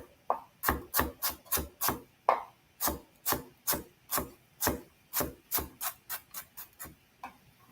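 A knife chopping through a stack of sliced vegetable on a wooden cutting board, a quick run of sharp, close knocks with brief pauses between bursts.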